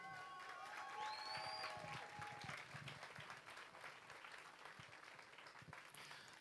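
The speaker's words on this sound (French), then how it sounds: "Et vous les applaudir, les battants." Crowd applause at the opening ceremony of the Relais pour la Vie charity relay in Brussels, a dense steady clapping that swells early and continues for several seconds, with a few cheers and whistles mixed in.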